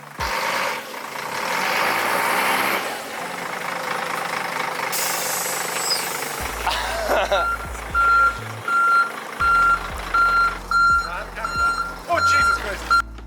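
A large bus reverses, its rumbling diesel engine idling under a steady run of evenly spaced reversing beeps, with people talking nearby over the machinery.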